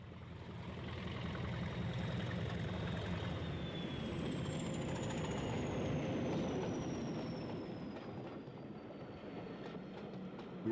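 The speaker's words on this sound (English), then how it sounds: "We close with a loco which is usually seen double-heading, but on this occasion the opportunity was taken for a single-headed run." A single-headed locomotive hauls a train along a railway, its steady rumble and clatter loud and close throughout, with a long whistling tone sliding slowly downward as it passes and fades slightly toward the end.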